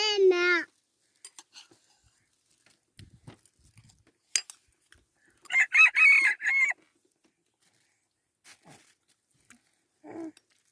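A rooster crows once near the start, and scattered clucks and calls from chickens follow, with a louder burst of clucking in the middle and another call near the end, in an otherwise quiet farmyard.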